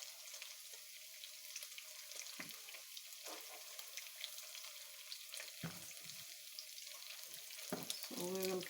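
Quaker oats patties frying in a pan, a faint steady sizzle with light crackle running throughout and a few soft scrapes or taps, no voices.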